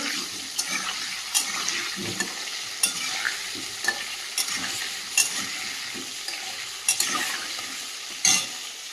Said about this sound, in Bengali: সামান্য পরিমাণে লবণ দিয়ে দিলাম দিয়ে আলুটা ভেজে নেব